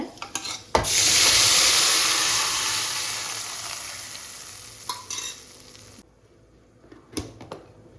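Banana flower kootu stirred into hot oil tempering with dried red chillies and asafoetida, a loud close sizzle surging up after a sharp clatter, then steadily fading with scraping stirs and light pan knocks.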